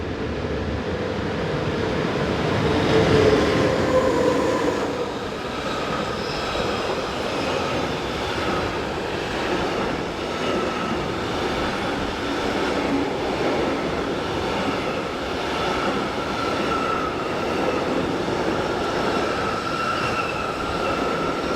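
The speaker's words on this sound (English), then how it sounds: "11328 and 11681 head north through the station with train 4176 from Piacenza to Rotterdam" A freight train, train 4176 from Piacenza to Rotterdam hauled by locomotives 11328 and 11681, rolls north through a station on the Gotthard south ramp in Switzerland, a steady, fairly loud rumble of wheels and wagons lasting throughout.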